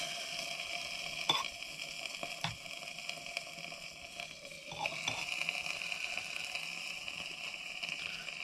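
Hot cranberry sauce sizzles in red-hot pots, a steady quiet crackling hiss with a few small clicks and knocks, heard alone.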